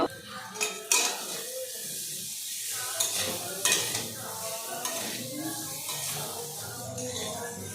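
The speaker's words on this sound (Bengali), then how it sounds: "আলুগুলোকে ভালো করে নেড়ে নেব" A utensil stirs potatoes in a pan with turmeric, making scraping clinks against the metal over a light sizzle. A few sharper knocks come through, and quiet talk is heard in the background.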